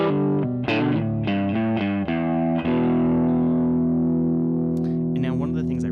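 An electric guitar runs through an overdrive patch on a Boss GX-10, playing a few quick distorted chords and then a long ringing chord, loud and close with a little reverb.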